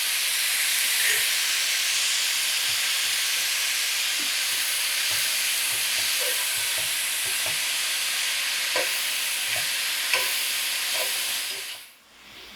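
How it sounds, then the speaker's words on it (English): Mushrooms cooking with liquid aminos, nutritional yeast and black pepper in a pan, giving a soft continuous sizzle and hiss with occasional light stirring clicks, fading out at the end. "we're going to cook these down for about 5 minutes until they start getting a little bit golden"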